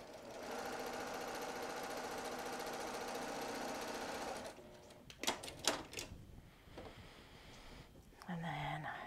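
Sewing machine stitching a piece of dryer sheet fabric, a steady fast mechanical whir for about four seconds, then stops, followed by clicks, handling noises and faint voices.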